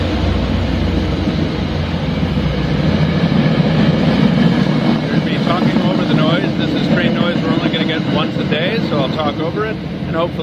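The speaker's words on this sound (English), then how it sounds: "with an MBTA commuter rail train running by" An MBTA commuter rail train rumbles past nearby, a loud, steady low roar with rail and wheel noise lasting throughout, with voices audible over it.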